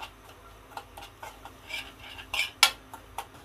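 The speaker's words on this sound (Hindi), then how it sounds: "अब इसमें मैं सूजी भूनूंगी" A spoon stirs semolina roasting in a spoonful of ghee in a pan, scattered soft scrapes and light metallic clinks at an irregular pace, fairly quiet and close with no talking.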